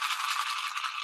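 Close, steady rattle of beads shaken inside a handmade maraca, a dense hiss of many quick small impacts that continues unbroken for a second with no voices.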